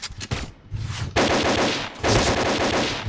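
Automatic AK-12 rifle fire in the shooter game Point Blank, loud close bursts of rapid shots separated by short pauses, with no talking.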